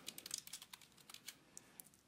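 Someone types a search term on a computer keyboard, a quiet, close run of light, irregular key clicks with brief gaps between them.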